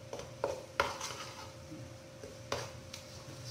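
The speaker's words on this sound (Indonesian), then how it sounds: "masukin bumbu dulu, digongsok" Ground spice paste stir-fried in a pan for a traditional home recipe, with several sharp scraping and clanking stirs at irregular intervals over a low, steady background hiss, close and fairly quiet.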